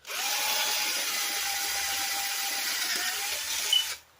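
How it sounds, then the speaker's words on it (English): A power drill bores a 1/4 inch hole in a chain guard for an Arctic Cat Ramrod, a steady high whine running about four seconds close up before spinning down. "Drill these out"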